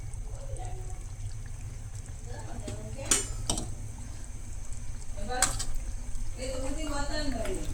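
Dry chicken chilli is mixed in a pan, with a couple of sharp metallic clinks and soft scraping under a steady background hum. Someone talks over it.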